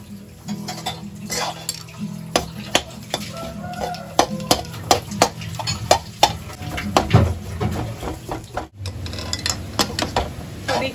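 A spoon works through a thick jaggery mixture in a pan for barfi, with repeated scraping strokes and sharp clinks against the metal in an irregular rhythm, fairly close and moderately loud.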